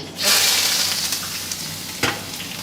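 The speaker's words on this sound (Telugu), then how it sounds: "సో ఫ్రై చేసుకున్నారు ఆనియన్స్ అండ్ గ్రీన్ చిల్లీతో" Onions and green chillies frying in hot oil, a bright, loud sizzle bursting in at the start and holding steady, with a single sharp stirring clatter near the end.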